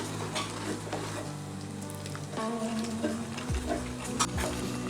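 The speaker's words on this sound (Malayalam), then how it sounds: "ഉപ്പി ചേർത്തതിന് ശേഷം ഇതൊന്നുകൂടി ഒന്ന് ഇളക്കി കൊടുക്കാം." Kerala parippu payasam simmers in a pot and is stirred after a pinch of salt goes in, giving a continuous bubbling sizzle with scraping strokes and a few clinks, close up, without talk.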